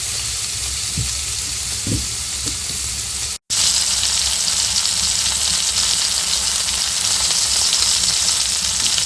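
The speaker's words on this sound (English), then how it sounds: "That pan is boiling." Olive oil, partly frozen, sizzles loudly and steadily in a very hot frying pan on a stove on a cold morning after the first frost, a dense crackling hiss with a brief gap partway through.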